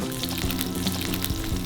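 An egg sizzles and crackles in hot oil inside an onion-slice ring in a pan, a close, steady frying hiss with small popping spatters and no voices.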